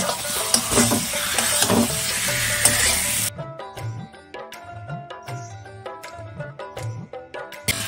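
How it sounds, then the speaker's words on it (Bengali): Marinated chicken with mustard oil, turmeric and salt hits a hot pan and sizzles loudly, then is stirred with spices, leaving a run of rhythmic scraping and clanking utensil strokes against the pan. "চিকেনটাকে আমি ম্যারিনেট করে রেখেছিলাম দিয়ে দিলাম। এই মশলার সাথে ভালো করে মিশিয়ে নেব।"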